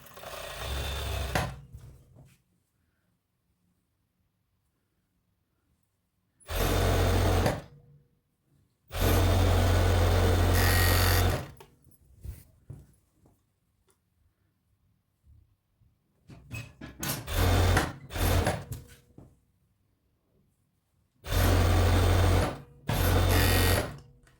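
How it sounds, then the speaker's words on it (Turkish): Sewing machine stitching the crotch seam of pajamas, running in several loud close bursts of steady whirring with quiet gaps between them, no talk. "Çeviriyorum ve hemen bacak arasını dikiyorum."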